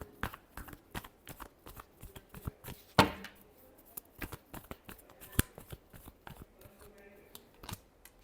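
Tarot cards being shuffled by hand: a dense run of crisp riffling flicks and soft slaps, close and fairly quiet, with one sharper snap partway through and no voices.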